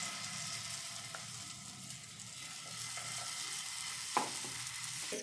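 Broccoli omelette batter poured onto a hot oiled pan, a quiet, even sizzle with light scraping and a single small clatter near the end.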